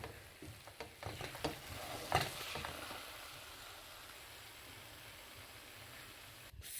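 Cooked potato and aubergine are mixed in a pan, with a few clattering scrapes and stirs up front followed by a quieter, steady low sizzle.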